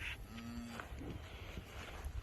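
On a farm with calving cattle, a cow gives a single short moo outdoors, fairly near, over a steady rush of wind noise.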